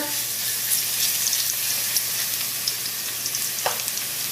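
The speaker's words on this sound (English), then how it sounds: "I already have a couple of tablespoons of oil heating, and to that I'm going to put 3 crushed garlic" Three cloves of crushed garlic sizzle steadily in a couple of tablespoons of hot oil in a pan, a close, continuous frying crackle with a few sharper pops and no talking.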